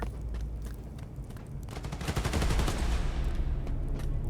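Rapid gunfire from the Spider-Man Miles Morales video game, a dense burst of automatic shots that swells to a loud peak midway before thinning out.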